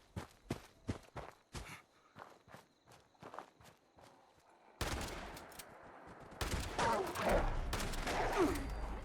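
Gunfire in Fallout 76, with a series of sharp, evenly spaced shots up close, followed by a denser, noisier stretch of rapid bursts and clatter.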